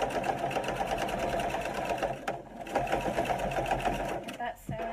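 A sewing machine hums and stitches fabric steadily at close range, with a brief pause partway through and a voice talking over the whirring motor.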